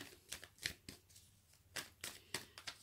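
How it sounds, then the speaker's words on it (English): Soft riffling bursts of cards being shuffled, several quick flurries in a row, close and fairly quiet. "Just going to do a few little shuffles here with the cards."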